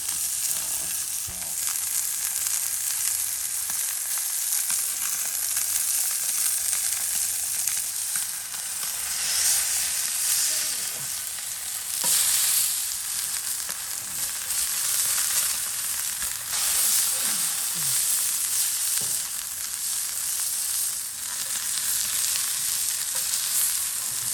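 Halibut sears in a hot pan with a loud, unbroken sizzle lasting throughout, occasional small pops and crackles rising above the steady frying hiss.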